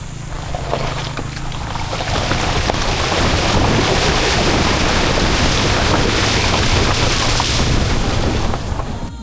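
Water rushes loudly and continuously during a river crossing near a campsite in Tanay, a dense, steady wash of splashing and flow close to the microphone with no talk.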